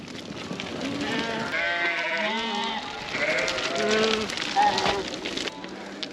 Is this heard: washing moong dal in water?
no